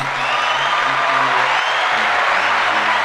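A studio audience applauds steadily for a guest's entrance on a talk show, dense continuous clapping at full loudness with a low musical drone underneath.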